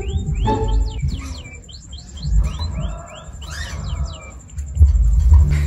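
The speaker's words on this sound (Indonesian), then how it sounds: "terbukti kan burung empritnya gacor sekali" An emprit haji, a munia, sings a run of short, high, rising chirps and tweets with soft gaps between them. It sounds fairly close, over low rumbling handling noise, and no one speaks.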